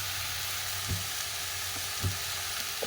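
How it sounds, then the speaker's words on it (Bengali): Salted greens with spices stirred in a frying pan sizzle steadily, with a few soft scraping knocks of the spoon against the pan. "এবারে ওপর থেকে একটু নাড়া দিয়ে দেব"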